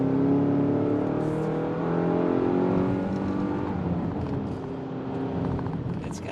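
A 2023 Hyundai Tucson accelerates on a test drive, its engine rising in pitch through the gears with a steady close drone and shifting tones, road noise underneath.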